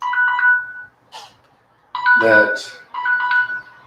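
Phone ringing in repeated electronic trill bursts, near and clear, with someone briefly talking over one of the rings.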